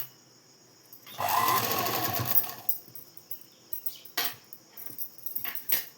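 Sewing machine running a fast straight stitch on a blouse, one sustained close whir lasting about a second, followed by scattered clicks and handling noises.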